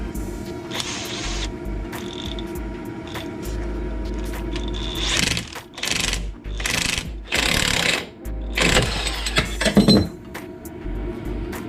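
Metal tools work a ball joint loose on a GMC 2500 HD upper control arm, with ratcheting clicks and grinding metallic scrapes, then sharp clinks and clanks close up under a low steady hum.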